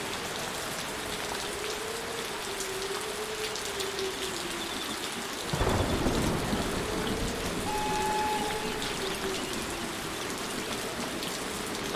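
Steady rain pattering on surfaces in the railroad simulator game Trainz Railroad Simulator 2019, with a low rumble swelling midway like distant thunder, over a faint droning hum.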